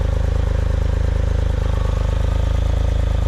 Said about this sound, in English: my car sounds like it runs a little smoother now with the new fuel rail and the pressure regulator